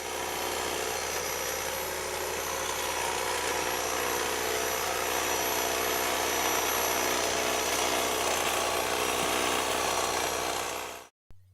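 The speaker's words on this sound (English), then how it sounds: "we have electric hedge trimmers also marketed by the same companies" Electric hedge trimmer running continuously at close range, a loud, steady buzzing drone with no pauses until it cuts off abruptly at the end, no voices.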